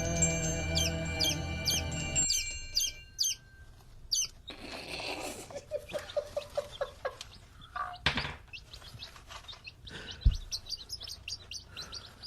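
A young bird kept in a cage under a heat lamp chirps loudly and repeatedly in quick, high-pitched bursts, mixed with some rustling and other background noises.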